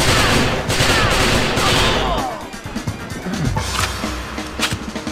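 Kalashnikov rifle fire in the video game XIII, Grand Canyon level, loud sustained bursts that ease into scattered shots and crashes.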